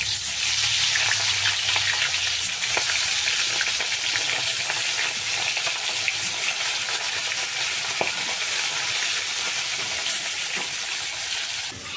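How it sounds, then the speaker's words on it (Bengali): Fish frying in hot oil gives a loud, steady, close sizzle and crackle that runs without a break, with small pops scattered through it and no voices. "এবার আমি মাছগুলো দিয়ে দেবো তেলের মধ্যে"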